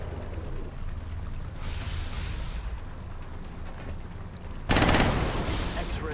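Gunfire in the XCOM Long War strategy game: a steady wash of rattling automatic fire and noisy bursts, with a sudden louder volley near the end, under low game chatter.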